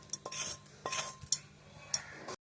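Metal spoon stirring cooled tempering into a stone-ground gongura and peanut chutney, giving a few close, uneven clinks and scrapes against the bowl with brief pauses between strokes.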